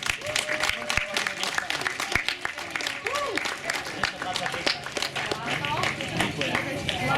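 Crowd clapping at the awards ceremony of the Bežecká pasuvačka 2015 running race as the winner is named, the scattered claps running under an announcer's voice.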